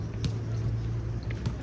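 Basketball bouncing on a court during a morning pickup game, several firm rhythmic bounces in quick succession under faint crowd noise.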